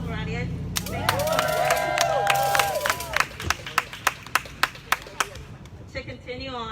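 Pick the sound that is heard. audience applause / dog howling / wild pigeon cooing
audience applause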